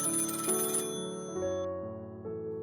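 Old rotary telephone ringing in the middle of the night, a steady electronic-sounding bell tone that shifts pitch in steps, fairly quiet and alone with no voices.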